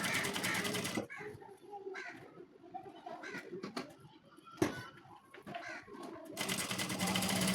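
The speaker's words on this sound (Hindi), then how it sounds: "खोलते जाएंगे और सिलाई हम लगाते जाएंगे।" Sewing machine running in bursts while stitching along a zip, with a steady mechanical whir broken by pauses and some background noise, loudest at the start and end.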